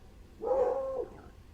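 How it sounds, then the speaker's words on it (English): A single dog bark from outside, fairly close and clear, one short tonal yelp standing alone against quiet background hiss. "Dog barking outside."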